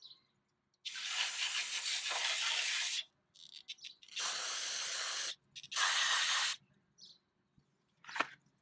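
Carburetor cleaner is sprayed into a gummed-up Honda GC160 carburetor from a tiller in three long hissing bursts and a few short squirts, close and loud with quiet gaps between.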